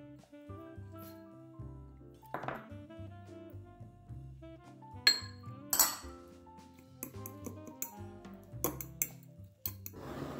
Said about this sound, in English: We bring this dish over and combine this butter and this Parmesan cheese.